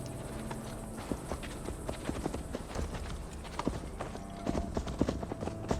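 Horse hooves clip-clop at a steady gait during a ride in the video game Assassin's Creed Valhalla, a continuous patter of clops over a soft background of music and ambience.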